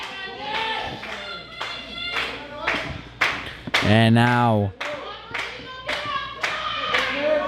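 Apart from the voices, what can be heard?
wrestling audience applauding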